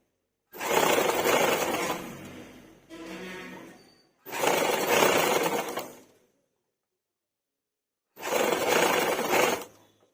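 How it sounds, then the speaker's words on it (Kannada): A sewing machine stitches piping onto a blouse in three loud whirring runs of a couple of seconds each, separated by a brief slower burst and silent pauses. "ಒಂದೇ ಸಮವಾಗಿ ಫೋಲ್ಡ್ ಮಾಡಿಕೊಂಡು ಸ್ಟಿಚ್ ಮಾಡ್ಕೋಬೇಕು."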